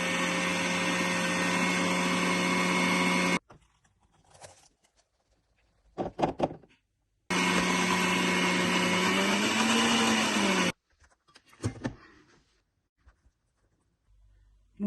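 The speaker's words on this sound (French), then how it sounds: "À cela, nous allons ajouter un peu d'eau pour écraser nos graines de lentilles. On va les réduire en pâte." Lentils and water being ground to a paste in an electric blender, loud steady whirring in two long bursts of about three and a half seconds each, separated by quieter clatter and handling sounds.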